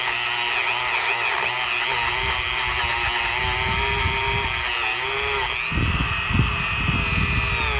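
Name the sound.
Dremel tool grinding slag off engine casting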